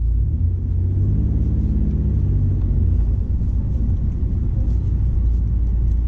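A car with freshly rolled fenders and new wheel fitment drives along, giving a steady, loud low rumble from road and engine with no voices.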